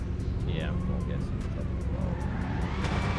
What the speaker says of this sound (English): That Mustang sounds good, too.